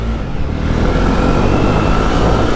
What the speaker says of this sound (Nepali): अनि फिल्म हेर्न नगए पनि अब जावा 42 कुदाइएको छ है।